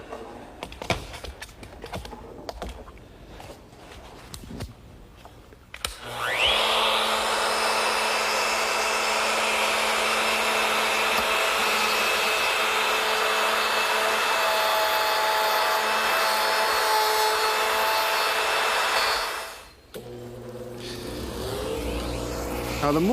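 Router fitted with a 1/2-inch straight cutter plunges into wood to cut a mortise for a lower rail, a loud, steady high whine holding for about fourteen seconds before spinning down, with clattering handling sounds before and after.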